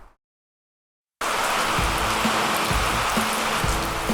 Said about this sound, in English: this rain's too heavy